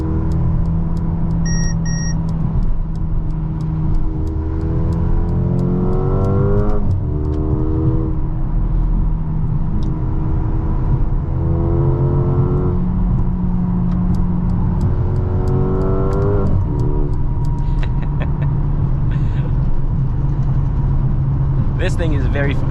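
2023 Mercedes GLA 35 AMG engine pulling hard under steady acceleration, revs climbing and dropping sharply at each rapid gear change, heard from inside the cabin with someone talking over it throughout.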